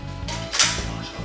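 A pistol dry-fired during shooting practice gives a single sharp mechanical trigger click near the middle, close and crisp, over quiet room tone with no talk.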